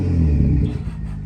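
Tuned BMW M240i or M235i with a 3-litre straight-six engine and MHD tune, revving briefly in a deep, loud rumble that swells and then settles.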